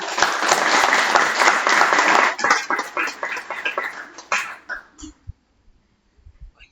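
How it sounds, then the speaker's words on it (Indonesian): Lively audience applause at an academic yudisium ceremony, dense clapping from a crowd that thins into scattered claps after a few seconds and ends in near silence with a few faint bumps. "Kita berikan tepuk tangan yang meriah"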